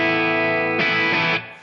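Electric guitar played through a Helix Stadium Marshall Silver Jubilee amp preset, a sustained overdriven chord ringing with rich harmonics, then a second strummed chord that cuts off and decays.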